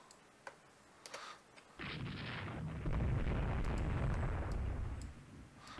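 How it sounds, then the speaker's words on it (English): A warship is struck by a torpedo in the naval strategy game Rule The Waves 2: a few faint ticks, then a sudden loud, rumbling blast that swells and sustains for several seconds before easing off. "One of our ships is hit by a torpedo."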